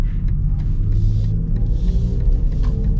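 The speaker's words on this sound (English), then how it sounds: "It does turn the engine on like pretty quickly though, but reasonable with the acceleration." A 2023 BMW XM plug-in hybrid's engine cuts in under acceleration, a steady low rumble with a faint rising drone heard from inside the cabin.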